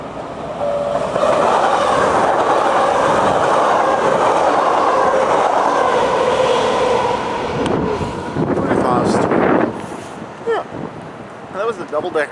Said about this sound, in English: we're gonna see how quickly this train actually goes past us.